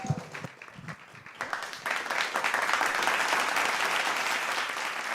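Applause at an online green jobs symposium, a canned clapping effect that begins after a short stretch of faint talk and swells into steady, moderately loud clapping that holds to the end.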